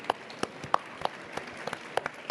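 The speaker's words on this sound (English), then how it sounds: "I think that deserves a little bit of a round of applause" Sparse, scattered handclaps from a small panel audience at a COP15 desertification session, a few distinct individual claps spaced irregularly over a quiet background.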